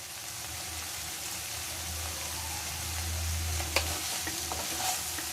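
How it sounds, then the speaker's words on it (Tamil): Broccoli frying with masala spices, including Kashmiri chilli powder, in a pan: a steady close sizzle with soft stirring scrapes and a few brief clicks near the end, no talk. "இப்போ சிம்லேயே வச்சு நம்ம இதை ஃப்ரை பண்ணி எடுக்கலாம்"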